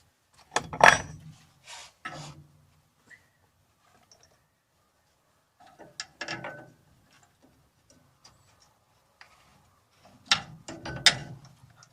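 Metal clinks and ratcheting clicks come from the lower bolt of a hydraulic cylinder being fitted on a T16 tipping body. They arrive in short close bursts separated by quiet gaps.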